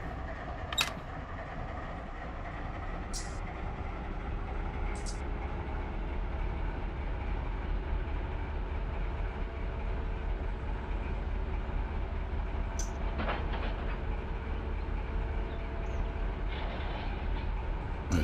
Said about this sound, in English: These giant road locomotives are not meant for this.